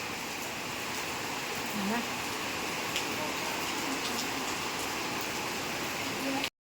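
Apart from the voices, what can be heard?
heavy rain falling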